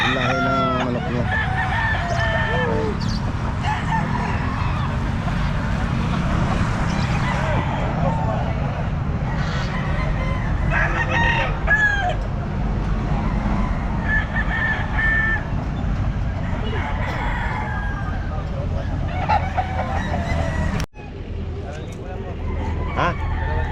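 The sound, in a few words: roosters crowing and chickens clucking at pet market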